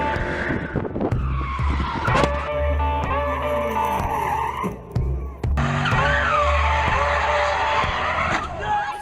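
A Ford Mustang 5.0 drifts with loud, sustained tire squeal and skidding over a roaring engine, the screech rising and falling in long sweeps with a short dip midway.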